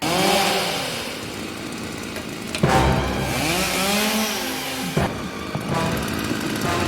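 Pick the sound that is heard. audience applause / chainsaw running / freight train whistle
chainsaw running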